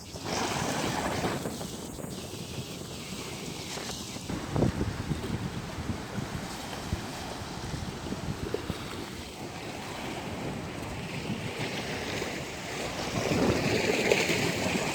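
Storm surge waves and strong wind after Hurricane Sally along a flooded waterfront boulevard, a steady loud roar of churning water and gusting wind noise filling the whole stretch, growing a little stronger toward the end.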